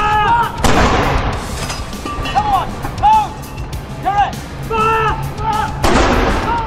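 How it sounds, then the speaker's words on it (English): A royal salute fired from six century-old First World War field guns: two heavy booms, one near the start and one near the end, with bird calls and crowd murmur in between. "The salute is fired from 6 special field guns which are 100 years old and were used in the First World War"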